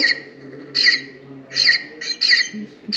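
Birds squawk in loud harsh bursts at a feeder watched by a live outdoor bird camera near a state park, several calls in quick succession over a low steady hum, no talk.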